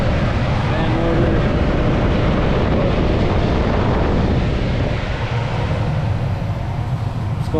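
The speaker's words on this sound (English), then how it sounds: "Fan motor." A Lennox HVAC system's fan motor runs steadily at close range, a continuous broadband whoosh and rumble with a low hum that holds level throughout and eases only slightly near the end.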